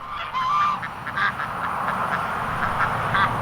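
Ducks on a farm honk and quack in short repeated bursts over a steady wash of outdoor background noise, fairly close, with no one speaking.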